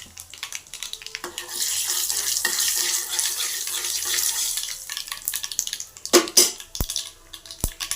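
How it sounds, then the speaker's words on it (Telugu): Curry leaves and dried red chilies frying in hot oil for onion chutney make a broad, steady sizzle that fades out. A few clanking knocks near the end suggest a spoon working the pan. "ఎండుమిరపకాయ, ఇప్పుడు కరివేపాకు కలుపుతుంది."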